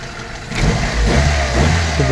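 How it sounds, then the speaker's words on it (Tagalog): A small-body Toyota Corolla engine runs loud and rough, catching and rising to a heavy, vibrating idle with a steady low rumble close by, its uneven knocking folded into the drone. "Tingnan nyo naman yung lagitik ng makina."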